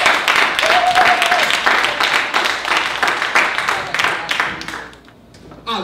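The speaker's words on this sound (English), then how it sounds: "Clap it up for Brother Professor Righteous." Audience at a Harlem open mic clapping for a performer, a dense burst of applause with cheering voices that fades out after about five seconds.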